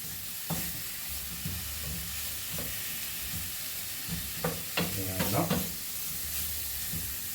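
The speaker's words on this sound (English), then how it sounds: "we'll fry this up until it's pretty crispy" Fatty, meaty pieces frying in a pan until crisp give a steady close sizzle, with scraping stir strokes around the middle and no talk.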